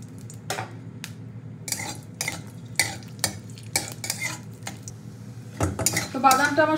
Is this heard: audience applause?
no